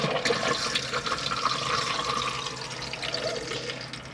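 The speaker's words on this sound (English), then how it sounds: "flush the toilet by pressing the blue button for the electric flush" Electric flush of the toilet in a Hymer Exsis I698 motorhome, a loud close rush of pumped water that runs steadily for several seconds and eases slightly at the end.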